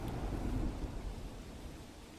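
A heavy rain downpour in North Gujarat's Patan makes a dense, steady roar, with a low rumble swelling early before easing.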